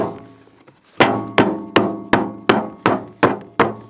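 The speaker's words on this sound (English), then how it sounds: "we're gonna take like a rubber mallet and then just smack around the edges" A rubber mallet strikes around the edges of a brake rotor, eight loud, ringing metallic hits in an even rhythm after a few faint taps.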